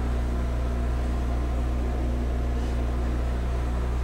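A lathe bores out the inside of an aluminum retainer, giving off a steady, unbroken motor hum with a constant low whine throughout.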